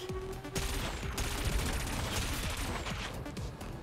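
Cannon weapon fire in the futuristic racing game Wipeout Omega Collection: a dense, steady rattle of rapid shots over constant engine roar, loud and continuous with no pauses.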